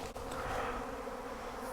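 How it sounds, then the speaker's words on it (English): A swarm of farm honey bees fills the air with a dense, continuous buzzing drone, close and steady throughout. "we got bees all over the ground"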